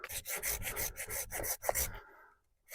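Cheap hand saw cutting through wood, a close series of rhythmic rasping strokes about every quarter second, then the sawing stops and a short scrape follows after a brief quiet gap.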